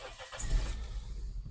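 A Toyota car with a misfire fault and stored fault codes starts up: a brief cranking whir rises into a steady, close engine run that settles toward idle, alone without talk.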